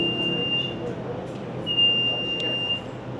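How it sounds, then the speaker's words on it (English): Two long, steady high-pitched electronic beeps sound over a low murmur of background noise in a 7-Eleven convenience store, the second lasting longer than the first. "a lot of beeping goes on at 7-Eleven"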